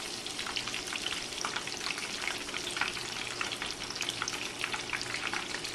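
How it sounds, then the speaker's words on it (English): Pork schnitzel fries in a pan with a continuous crackling sizzle of hot oil. Bright spattering pops keep up a steady, fairly quiet texture from start to finish. "we'll let that go and we'll get all these fried up"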